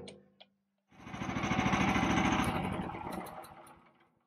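A shredder's engine starts up and runs with a rough, steady chugging roar, then winds down near the end; close and loud.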